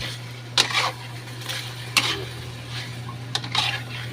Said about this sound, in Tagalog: Haluin na to.